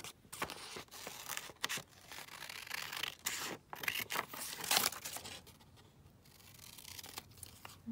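Paper being trimmed for a junk journal makes close, dry tearing and crinkling sounds in irregular bursts, with quieter rustling between them and no one talking.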